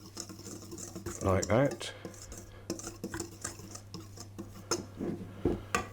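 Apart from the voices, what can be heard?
whisking cocoa powder into flour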